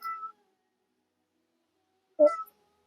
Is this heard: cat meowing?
yes